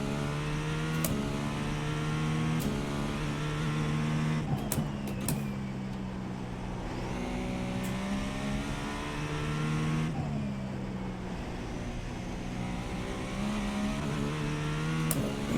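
A race car engine in a racing video game set at the Nürburgring combined layout, revving high and steady with rising and falling pitch through gear changes and a few sharp clicks, continuous and up close.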